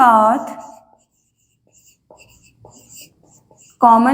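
During a biology lesson, a teacher writes on a board with soft, scratchy strokes between spoken words at the start and end.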